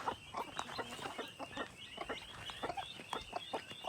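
Busy flock of chickens, turkeys and geese clucking and calling over one another in a steady, crowded chorus, with a constant hum behind.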